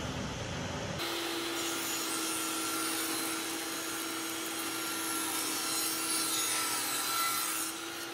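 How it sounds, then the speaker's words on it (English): A saw rips a wooden offcut down to an inch-wide strip, a sustained loud buzzing cut that starts abruptly after a brief lead-in and runs steadily to the end. "Now I'm going to take this off cut, and I'm going to rip this down to an inch wide."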